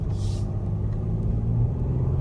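Cabin of a 2012 Mercedes-Benz ML350 BlueTEC 4Matic diesel SUV on the move: a low, steady engine and road rumble, hushed and even, with a few faint ticks and no talking.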